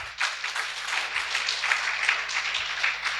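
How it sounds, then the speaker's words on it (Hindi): A crowd at a recognition programme in Bhubaneswar applauds, a full, continuous burst of many hands clapping that starts abruptly and holds steady and fairly loud for about three seconds, with no voices. "बड़ा करताली हो दरकार।"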